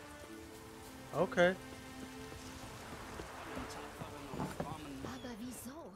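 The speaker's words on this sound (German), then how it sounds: "Sieht nach Regen aus." Rain falls in The Witcher 3 as a steady, soft hiss that runs through the whole scene, with a brief louder character voice and scattered game sounds over it.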